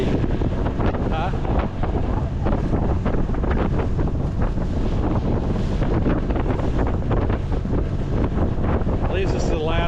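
Strong wind on Lake Murray, South Carolina, from a boat in rough water, roaring across the microphone in loud continuous buffeting gusts, with water slapping underneath and a voice talking briefly through it.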